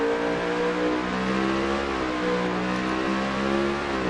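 A race car in a racing video game at the Indianapolis road course pulls hard after a downshift. The engine's steady, loud whine climbs in pitch under full throttle, with harmonic tones rising smoothly throughout and no speech.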